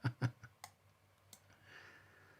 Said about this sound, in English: I'm just clicking on something that's gone wrong.